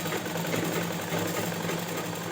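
Sewing machine stitching a doubled-over piece of cloth for a Rabari sadlo garment, a steady continuous mechanical whir and hum at close range with no pauses.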